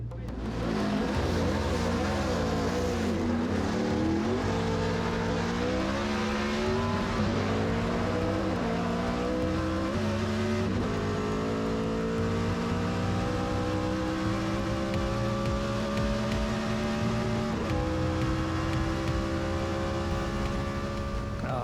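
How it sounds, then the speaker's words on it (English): A Roush Yates-powered stock car engine pulls hard at well over 200 mph, a loud sustained roar whose pitch climbs steadily through the gears with a short shift break, heard close up throughout. "Rouse Yates motor, look at this, tucked in and going, boy, pulling hard on the big end, just like the bass stretch at Daytona"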